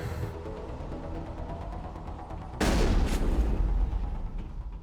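A single loud, booming shotgun blast from Mass Effect breaks out after a low rumbling background, its heavy report decaying slowly over the following seconds, with no voices.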